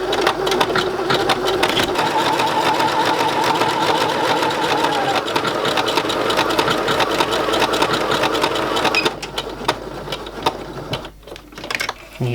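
An overlocker serger stitches an edge on vintage Barbie doll clothes, a fast, continuous mechanical whirring chatter that runs steadily up close before slowing and stuttering near the end.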